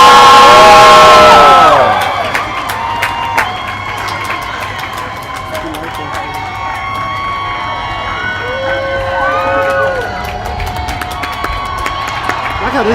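A live crowd roars and cheers for the appearance of the host of Reading Rainbow, a loud burst up front that settles into a sustained, distant crowd din with scattered whoops and squeals.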